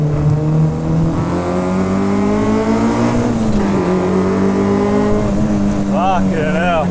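A K-swapped Honda EG Civic's engine drones loud and close from inside the car on a mountain touge run, holding a steady rev with a slight shift mid-way, as people talk over it.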